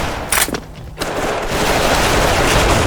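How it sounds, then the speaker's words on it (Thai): Rapid bursts of gunfire in the online shooter game Special Force crackle loudly over a dense, continuous din of shooting and many explosions, like a busy battle scene. "เพื่อนยิงอยู่ด้านหน้า"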